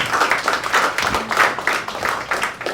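An audience claps and applauds for a contestant who has just had a Rubik's Cube trick performed on stage; the clapping is dense and steady, with no one speaking.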